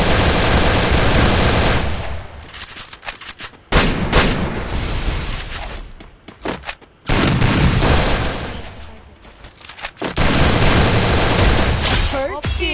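Gunfire in a mobile shooter video game: long, loud bursts of rapid automatic fire broken by short gaps and single booming shots, close and dense throughout.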